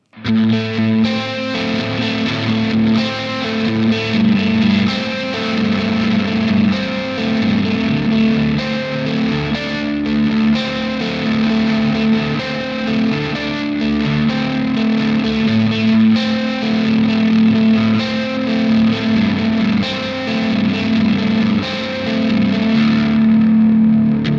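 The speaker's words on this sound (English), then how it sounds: "Now with the tides engaged." Heavy distorted metal guitar played through a Victory Kraken MKII amplifier with a Tides chorus-style modulation pedal engaged, a thick, loud, continuous wall of riffing with a widened, shimmering stereo sound and no talking.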